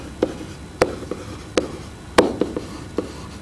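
Chalk or marker writing out a trigonometry note on a board in a geometry class: a run of crisp, evenly spaced strokes and taps, close and clear, with no voice over them.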